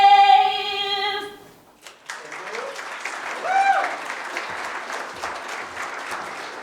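An audience at the 2021 Veterans Day ceremony at Washtenaw Community College breaks into sustained applause after the sung US national anthem's held final note fades, clapping filling the space steadily for several seconds.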